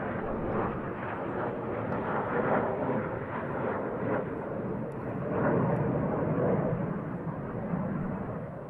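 Military aircraft on approach near RAF Lakenheath, a steady broadband jet roar filling the whole stretch, swelling slightly midway, moderately distant and continuous with no talk.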